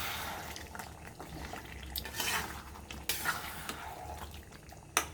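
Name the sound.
stirring chicken kosha in a pan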